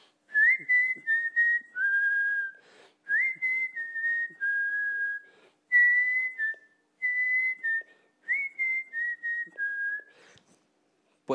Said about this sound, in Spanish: o quizás silbando.